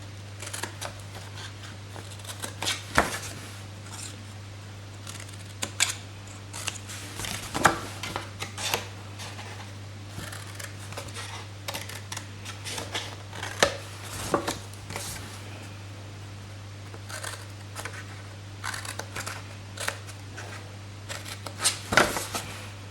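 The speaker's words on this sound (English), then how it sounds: "cut up on each side the 4 score lines on both sides, and we're just going to notch those out as well" Paper gift box stock being notched along its score lines with scissors, a string of short snipping clicks scattered over about twenty seconds, close and fairly quiet over a steady low hum.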